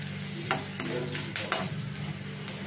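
Onion fries in a pan as red chili powder goes in, a close steady sizzle marked by several sharp scraping strokes of a spatula, with no voices.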